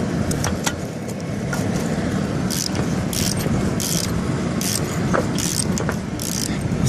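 A Subaru EJ25 engine idles with worn, bad bearings and serious play in the motor, giving a steady close mechanical drone with repeated light metallic ticking and clatter throughout.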